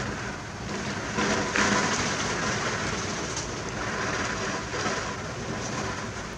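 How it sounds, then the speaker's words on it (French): Steady rain falling at 3 a.m. in a storm with lightning over trees, a continuous hiss that swells briefly near the start, with no clear thunder crack standing out. "Ça, c'est la pluie à 3 heures à matin avec les éclairs."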